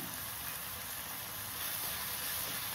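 Slit green chillies sautéing with tomatoes in a hot pan give a steady, even sizzle and hiss that holds at a moderate level throughout, with no talking.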